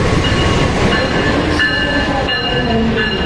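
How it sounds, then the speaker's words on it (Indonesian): The locomotive-hauled Cikuray train rolls into track 3 of an Indonesian station with a steady heavy rumble, faint metallic squeals and wheel clatter, loud and continuous with no voices. "Rangkaian kereta api Cikuray sudah masuk jalur 3."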